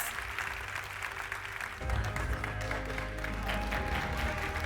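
Applause from the audience at the MICHELIN Guide Istanbul, İzmir and Bodrum awards ceremony, a steady wash of clapping that swells after a couple of seconds and continues under a sustained tonal background, probably music.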